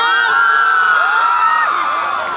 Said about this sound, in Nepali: खै ताली हल्ला सुनौँ त एकपटक